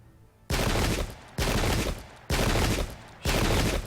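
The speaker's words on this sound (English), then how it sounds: "Shooting my cannons." Cannons fire in the Pike and Shot strategy game set in the English Civil War: four loud, heavy booming blasts, each with a sustained rumbling roar, come at roughly even intervals with quieter gaps between.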